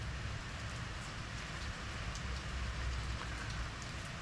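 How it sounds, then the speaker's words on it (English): A heavy downpour, a gully washer, roars steadily, dense drops drumming on surfaces in a thick, constant wash of sound. "This is the first serious gully washer."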